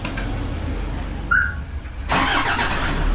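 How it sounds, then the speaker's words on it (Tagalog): A Toyota Hiace van engine starts with a brief chirp of the starter, then catches and settles into a steady idle over constant background noise. "nag-start na yung sasakyan"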